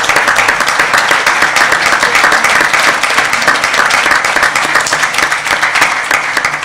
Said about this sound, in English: We have a round of applause for our new team.